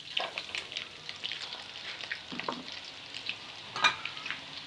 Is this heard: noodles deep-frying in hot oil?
yes